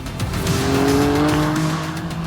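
An Acura NSX street car drives past with loud tire squeal, a sustained tonal screech layered over engine drone that swells and fades across the pass.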